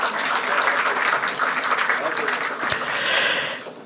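Audience applause at a book launch celebration, loud and sustained dense clapping filling the whole stretch, with voices mixed in beneath it.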